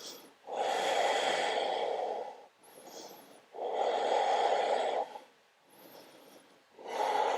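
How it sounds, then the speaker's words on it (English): Deep, loud breaths in and out during a beginner hatha yoga session, several long, steady exhalations close up with brief pauses between them. "3 more big breaths, you can do this."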